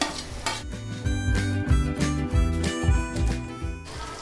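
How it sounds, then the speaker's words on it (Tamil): Beans and carrots sauté in a pan, a steady close sizzle with repeated scraping and stirring strokes of a utensil against the metal throughout. "பீன்ஸ், கேரட் சேர்ந்து ஒரு 2 நிமிஷம் வந்து வதங்கிடுத்து."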